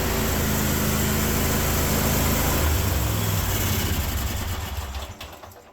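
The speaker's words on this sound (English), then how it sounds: "Let's see how she starts up." A Cub 1050 hydro lawn tractor engine, started cold on full choke, runs with a steady close mechanical drone for several seconds, then winds down at the end. No voices are heard.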